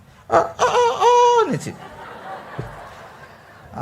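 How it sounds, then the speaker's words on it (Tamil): A rooster crows nearby, one loud rising and falling cock-a-doodle-doo lasting about a second, followed by quiet room tone and faint voices. "சேவல் கூவுது."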